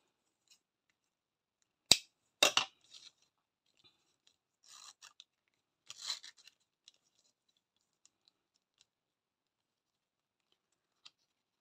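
Scissors cut elastic on a traveler's notebook, heard as a few close, quiet snips and scratchy rubs separated by long silent gaps.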